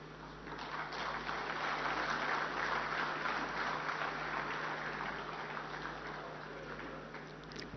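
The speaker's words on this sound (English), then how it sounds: "Can we have a huge round of applause for sir, please?" Steady applause fills the hall at an international irrigation and drainage conference as a minister is welcomed, a broad, even wash of clapping from a large audience lasting several seconds, with a faint hum underneath.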